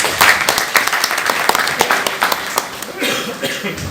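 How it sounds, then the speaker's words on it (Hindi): An audience at a YouTube creator meetup in Amritsar breaks into loud, close applause with a few scattered claps and a cough, and the clapping thins out toward the end. "इनके लिए तालियां तो होनी चाहिए।"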